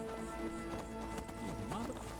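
Galloping horse hooves from Skyrim, a steady run of clip-clop beats in a game world, with a voice talking over part of it.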